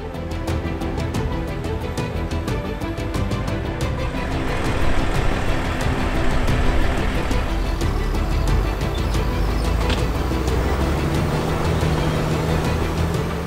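A Claas Xerion 3800 tractor compacting silage on a silo, its engine droning loud and steady throughout with a rumbling low end and shifting mechanical noise.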